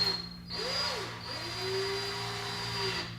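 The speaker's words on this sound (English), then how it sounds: "Get the drill going the right way first." A power drill whirs close up, its motor pitch rising and falling as the trigger is squeezed and eased over a few seconds.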